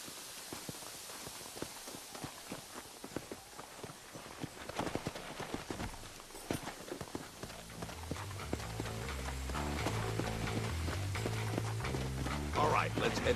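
Horses' hooves clip-clopping in Red Dead Redemption: a brisk, fairly close stream of hoofbeats under talk, with music swelling toward the end.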